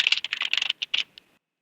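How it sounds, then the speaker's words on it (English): Rapid typing on a computer keyboard, a close, crisp burst of key clicks in quick uneven rhythm that trails off into silence. "Click into it and just start typing."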